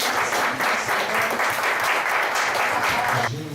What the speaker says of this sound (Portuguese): Aplauda mais uma vez o Senhor.